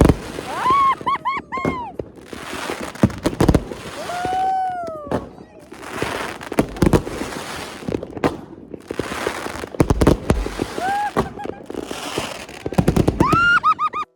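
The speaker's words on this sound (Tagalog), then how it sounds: "sunod-sunod na ang nagpapasiklab ng fireworks sa iba't ibang parte ng Iceland" New Year fireworks burst across Iceland before midnight, a rapid string of sharp cracks, whistling rockets and crackling bangs at varying distances, loud and irregular, with a voice talking between blasts.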